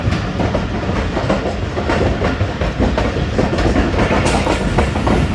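The Jaffar Express passes Chaklala station in foggy winter weather, a loud steady rumble with rapid clickety-clack of wheels over rail joints running throughout, close by, with no voices.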